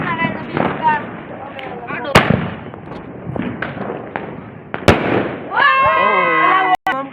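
Diwali firecrackers go off in sharp, loud bangs, a few separate blasts spaced seconds apart, while excited young voices chatter and shout between them and one bursts into a drawn-out cry near the end.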